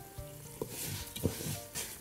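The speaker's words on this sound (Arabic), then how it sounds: "هنزود نقطة زيت، نقلب كده فيهم الشعرية شوية" Vermicelli sizzles in a little oil in a single pot while a spoon stirs it, giving a close crackle with a few sharp scraping knocks over about two seconds.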